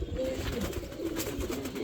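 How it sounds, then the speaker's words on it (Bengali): Pigeons at a pigeon farm coo softly in a low, murmuring stream, several birds overlapping close by with a steady background rustle and no talk. "এই সেই কবুতর।"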